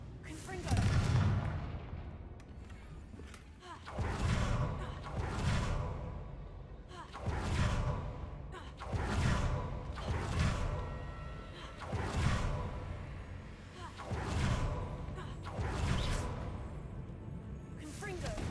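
Repeated fiery spell blasts from the Confringo spell in Hogwarts Legacy burst with whooshing booms in a roughly regular rhythm, about eight explosions, loud and close, with spoken voices heard among them.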